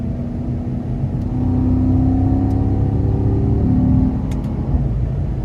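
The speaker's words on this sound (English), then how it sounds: "And I just love the sound that this exhaust makes." A naturally aspirated V8 in a 2014 Porsche Panamera GTS pulls hard from inside the cabin, its deep exhaust drone climbing and holding for a few seconds before easing off, with no voices.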